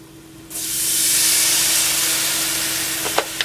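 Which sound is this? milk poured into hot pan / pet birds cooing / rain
milk poured into hot pan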